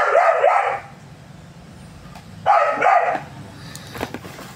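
A dog barks close by in two loud bursts of rapid yapping barks, with a quieter pause between them and no talking.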